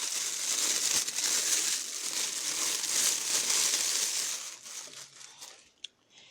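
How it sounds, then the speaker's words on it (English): Packaging around an ambient aroma diffuser is unwrapped with close, continuous crinkling and tearing that fades into scattered softer rustles and a final sharp crackle. "We're going to unwrap them."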